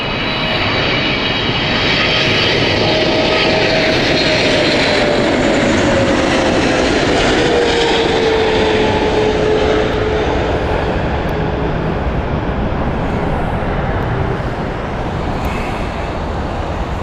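An American Airlines jet inbound to Heathrow Airport roars loud and steady throughout, a broad engine rumble with a slowly falling whine as the airliner passes close overhead.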